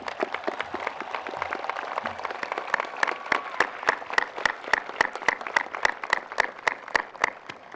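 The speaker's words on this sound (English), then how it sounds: "Please give these individuals a round of applause for their accomplishments." A crowd applauds steadily at a high school graduation, many hands clapping together, with a few louder, sharper claps standing out in a fairly even rhythm.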